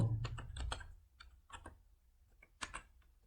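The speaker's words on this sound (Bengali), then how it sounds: "এখন দেখুন আমি হিন্দু ধর্ম লিখব।" Keys clatter on a computer keyboard as text is typed in MS Word, a quiet, close, irregular run of clicks in short bursts with no speech.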